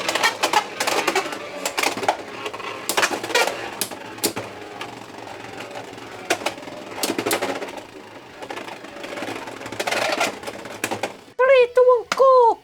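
Beyblade X spinning tops, including a Savage Bear 3-60S, clatter and clash in a plastic stadium, a busy run of sharp clicking impacts with voices talking over them, ending in a few short tonal chirps.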